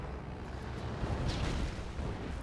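Explosion from a power plant being destroyed in the real-time strategy game Red Alert 2, a muffled burst and rumble over steady broadband game noise, with a brief brighter crackle near the middle.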